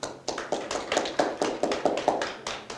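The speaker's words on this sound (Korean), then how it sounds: "큰 박수 부탁드리겠습니다." Audience applause greeting the hospital director Kim Sang-il at a Korean medium-sized hospital association seminar and awards ceremony, heard as a short run of sharp, evenly spaced claps about every quarter second, fairly near and moderately loud, with no talk.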